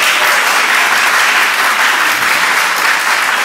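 Loud, dense applause from the audience at a marriage equality discussion panel in Chicago, a steady unbroken wash of many hands clapping throughout, with no talking over it.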